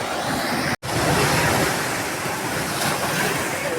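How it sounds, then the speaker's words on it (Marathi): Strong sea waves crash against coastal rocks on a Konkan beach, a loud continuous roar of surf and spray with wind buffeting, broken by one very brief dropout. "लाटावर लाटा येऊन धडका लागल्या मित्रांनो दगडासने"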